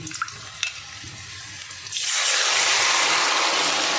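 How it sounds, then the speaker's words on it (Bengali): Tap water runs into a bowl being washed in a home kitchen, starting with faint clinks and handling, then a loud, steady gush of water that continues to the end; no talking. "বাটিটা ধুয়ে একটু জল দেবো"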